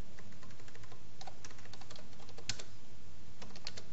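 Commands typed on a computer keyboard while installing Android and Cordova tools for Ionic development: short bursts of close, crisp key clicks with brief pauses between them, alone and fairly quiet.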